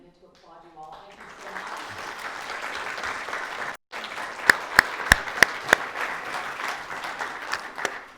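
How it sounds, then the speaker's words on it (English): An audience at a college arts and sciences panel event breaks into sustained applause that swells and holds, with a few sharp close claps standing out and a voice talking faintly at the start. "we're just going to take a minute to applaud you all"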